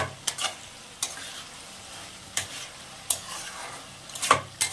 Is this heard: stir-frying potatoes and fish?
yes